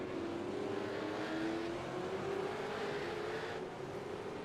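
Simulated V8 Supercar engine from a sim racing game at Silverstone, a steady high engine drone with a rising pitch as it accelerates, loud and continuous throughout.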